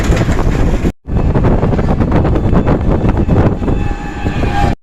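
A passenger train at a station in Bhowanipore, with people boarding, rumbling loudly and steadily with wind buffeting the microphone, broken by a brief cut near the start.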